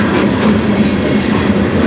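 A CN freight train rumbles past on the Strathroy Subdivision, a steady, loud low roar of wagons with faint rail clatter throughout, close by and with no voices.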